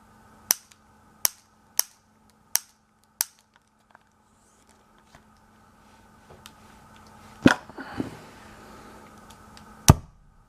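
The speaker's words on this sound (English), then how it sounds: "for this test I added a little more gas for more power. Here we go, on the right, firing in 3, 2, 1" A homemade gas-powered BB sniper rifle, charged with extra gas, gives a run of sharp, evenly spaced clicks, then a louder pop trailed by hissing rattles and one more crisp crack near the end.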